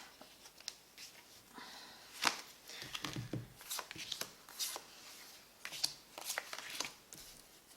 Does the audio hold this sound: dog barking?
no